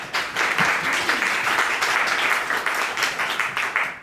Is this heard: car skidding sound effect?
no